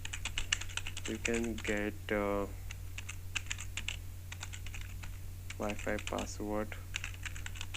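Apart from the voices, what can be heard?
typing a text message on a computer keyboard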